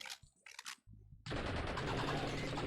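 Gunfire in the survival shooter Blood and Bacon: a few short, sharp shots spaced apart, then a sudden loud, sustained burst of rapid automatic fire that runs to the end without a break.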